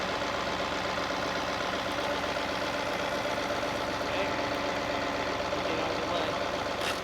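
Tractor engine running steadily while dragging a log along the ground in a log skidding contest, a continuous mid-pitched rumble with knocking texture, close and loud throughout.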